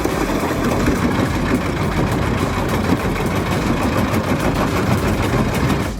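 A big industrial wood chipper at a 2.9 megawatt plant grinds wood into chips, its engine roaring loud and continuous with a dense mechanical churning throughout.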